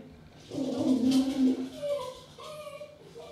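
A dog barks and whimpers excitedly at neighbours pulling up in their drive, with a run of close, high yelps and whines, then quieter whimpers trailing off near the end.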